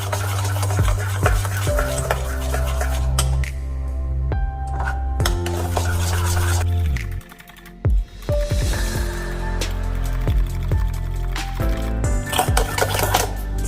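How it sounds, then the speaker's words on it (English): Room-temperature butter is mixed into mint cashew biscuit batter in a bowl, giving repeated close scraping and clinking stir strokes over steady background music. "Mix it nicely."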